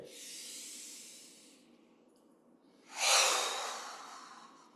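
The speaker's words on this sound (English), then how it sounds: "Rubbing the palms together and breathing." Palms rubbing together and slow deep breathing during a guided breathing exercise, a soft breathy hiss fading out, a pause, then a louder rushing exhale or rub that slowly trails off, close and alone.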